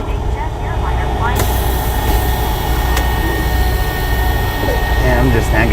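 A big jet airliner's engines give a loud, steady, close roar with a constant low rumble, and voices are faintly audible beneath it.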